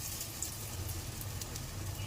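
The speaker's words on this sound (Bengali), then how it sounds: "এখন একটা একটা ভেজে নেব," Thin chili-spiced fritters fry one by one in hot oil, giving a faint, steady sizzle with light crackles and no voices.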